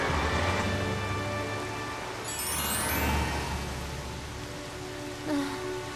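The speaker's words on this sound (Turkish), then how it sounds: "O kadar yoğun yağıyor ki önümü göremiyorum." Heavy cartoon rain pours in a dense, steady roar, loud and continuous throughout, with a faint swoosh passing midway and no voices.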